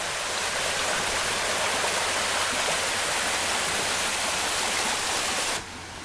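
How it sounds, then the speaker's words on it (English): River rapids rush in a dense, unbroken roar of churning water, close and loud throughout, with the sound dropping away abruptly at the very end. "you'd have to navigate these rapids here."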